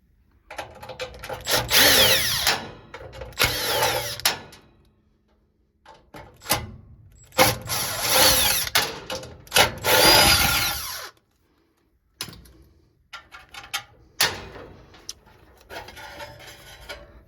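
A power drill removes four bolts from the blower unit of an old furnace, whirring loudly in several separate bursts of a few seconds each, with brief quiet gaps and small clanks in between.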